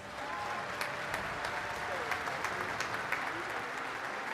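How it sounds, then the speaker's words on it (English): Audience applause at a photography award and degree ceremony, steady sustained clapping from a large crowd filling the whole stretch with individual claps standing out. "Please join me in giving these accomplished photographers a round of applause."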